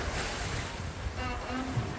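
A sailboat running fast before a force 5 to 8 gale on the open sea from Barbados to Union Island, with a steady roar of wind and rushing water across the whole span.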